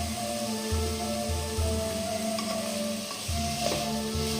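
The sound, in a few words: stirring chicken and rice with black pepper in a pan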